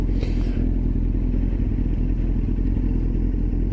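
A motorcycle engine idles steadily and close by at a traffic light, a continuous low rumble with faint rattling, without any voices.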